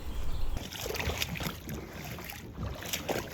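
A kayak paddled on open water gives soft, irregular splashes and gurgles close by, mixed with light wind noise on the microphone.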